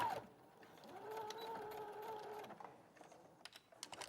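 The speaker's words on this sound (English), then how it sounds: "So just going to sew that along there" A sewing machine stitches fabric in a short quiet burst of humming motor drive, followed by faint clicks and handling noises nearby.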